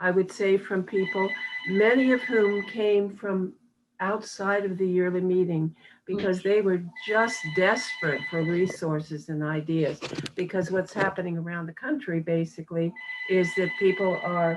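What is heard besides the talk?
telephone ringing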